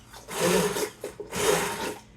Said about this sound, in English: I don't want to have those big chunks in there, so I'm just going to go ahead and immersion blend them.